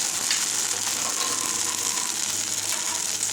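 Uttapam made from dosa batter topped with chopped vegetables, frying in a pan with a steady, close sizzle and faint crackling that runs throughout with no talk.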